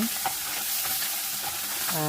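Pabda fish frying in oil in a pan, a bright steady sizzle with a few soft scrapes as the pieces are turned, brief and close with no speech.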